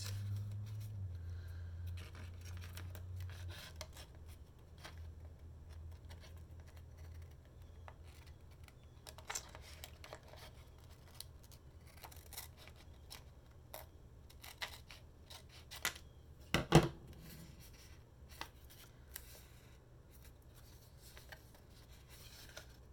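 Paper being cut with scissors at a quiet crafting table, faint soft snips and rustles spread over a long stretch, with a steady low hum early on and a brief louder clatter near the end.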